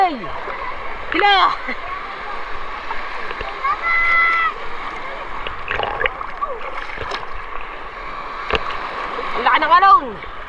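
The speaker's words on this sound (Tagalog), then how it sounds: "Ang laki ng alon!" Water splashes and churns steadily around a small boat on a rough river, with excited voices shouting over it and a few louder surges.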